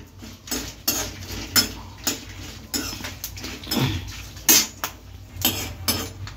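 Garlic cloves go into a pan of frying dried red chillies for mango coconut chutney, and a spoon scrapes and clinks repeatedly against the metal pan in uneven strokes over a faint background sizzle.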